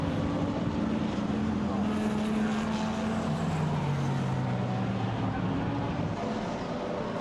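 An Audi GT race car, number 1, driving through Brooklands at Silverstone during a Blancpain Endurance race, a steady engine drone shifting in pitch under a wash of crowd and wind noise, moderately distant.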